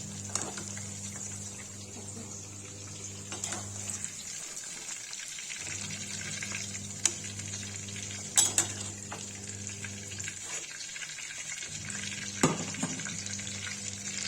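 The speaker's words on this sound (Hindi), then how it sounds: "गाइस देखिए लौकी फ्राई होगी, इसको निकाल देंगे।" Bottle gourd pieces frying in oil, a steady close sizzle throughout with occasional clinks of a utensil against the pan.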